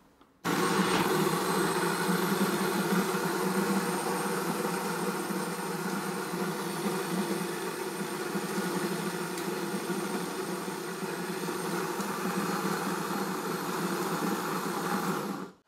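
A Mahlkonig X54 home espresso grinder grinds coffee beans coarse for French press, a steady whirring motor drone that runs evenly for about fifteen seconds before cutting off.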